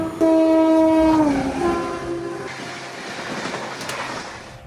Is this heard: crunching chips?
no